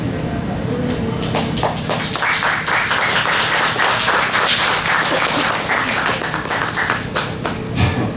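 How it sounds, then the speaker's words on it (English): An audience at a poetry stage event with poet laureates breaks into sustained applause, a dense, even clatter of clapping that swells and then eases, with voices mixed in. "This poet, he was interrupted by applause"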